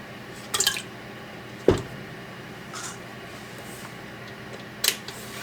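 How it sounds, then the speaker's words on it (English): Three eggs drop into a KitchenAid mixer bowl with a few faint, brief wet plops and light knocks spaced apart in a quiet kitchen. "I'm going to put my 3 eggs in"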